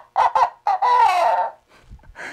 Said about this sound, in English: hold onto the string, and you can make some very cool barnyard sounds